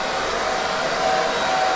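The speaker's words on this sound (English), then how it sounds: "But don't overheat the hairdryer, just be careful." A hair dryer blows steadily at close range, a constant airy whoosh with a thin whine running through it.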